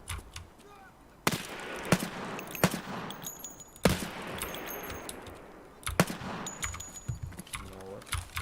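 Gunfire in the video game Escape from Tarkov: several loud, sharp shots at irregular intervals, with a quick rattling burst near the end.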